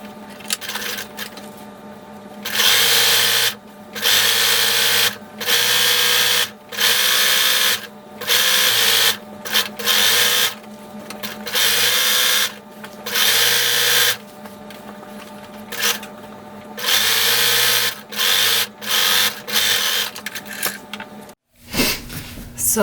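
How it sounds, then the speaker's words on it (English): A sewing machine stitches a skirt hem in repeated loud, close bursts of a second or two, separated by brief pauses, with a voice talking in the gaps. "I'm going to sew this hem. I'm going to sew 3/8 of an inch up from the bottom."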